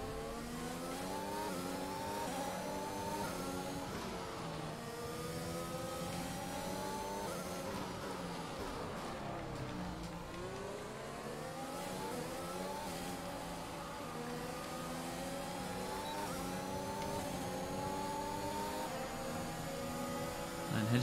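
An F1 race car engine in the F1 2021 video game screams and revs continuously, its pitch rising and falling through gear changes over a steady, loud drone.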